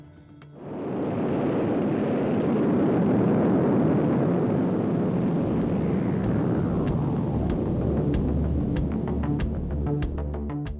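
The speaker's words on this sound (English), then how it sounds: "a supersonic machine that would fly faster than any other manned aircraft ever created" An SR-71 Blackbird supersonic jet produces a loud, steady, continuous roar that swells in within the first second and holds, with faint clicks over the sustained rush.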